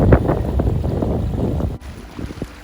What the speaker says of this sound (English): Trying to show you how windy it is. It really is windy.